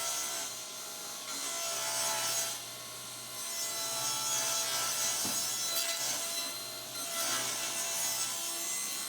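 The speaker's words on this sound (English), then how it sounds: "So I make my cut slightly oversized, and then I just trim that edge off." A saw trims the factory edge off a plywood sheet in a workshop, with two long steady cutting passes of hissing, rasping noise separated by a short lull, close and fairly loud, no talk.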